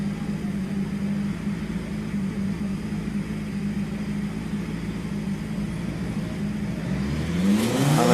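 A Porsche racing car engine drones at an even pitch on the start line at Prescott hill climb, then the revs climb sharply near the end as the car pulls away.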